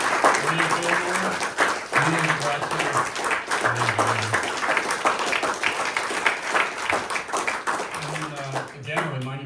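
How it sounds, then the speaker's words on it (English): Audience applause for a night of speakers at a literary reading event, dense continuous clapping over the whole stretch, with voices speaking over it. "One more round of applause for all tonight's speakers."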